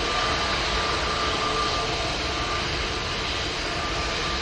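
Airbus A321neo airliner engines roar in a continuous, loud, broadband rush, steady throughout with no break, heard close with no talking.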